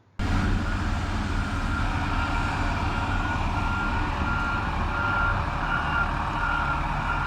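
Pavers and rollers work in echelon on an emulsion paving job, a loud, steady engine rumble running throughout with a faint reversing beep over it and no talk.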